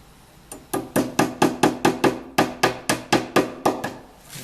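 A hammer drives a nail into a wooden frame for a Kenyan top-bar beehive, about thirteen loud, close, evenly spaced strikes with sharp woody knocks and no talking.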